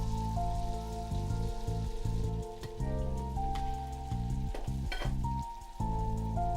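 Butter and crumbled blue cheese sizzle steadily in a pan, a constant crackling hiss with music playing in the background.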